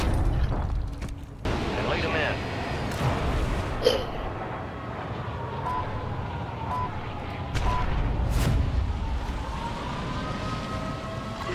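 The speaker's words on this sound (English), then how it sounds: "Hostile hunter strike near your position." Heavy rumbling booms and blasts from a hunter airstrike roll through Call of Duty: Warzone Resurgence, with sharp bursts near 4 and 8.5 seconds over a constant low roar, and players talking throughout.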